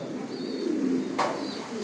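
Racing pigeons in a loft give a brief, soft, close coo that rises and falls over the steady hum of the room.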